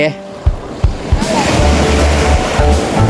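Sea waves wash onto the sand at Sai Noi beach, a steady roar of surf with gusty wind buffeting the microphone and a few low thumps, while people talk nearby.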